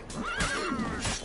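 Roach, a horse in a video game, lets out a single close, clear neigh, a rising and falling whinny lasting about a second, with faint hoof clatter beneath.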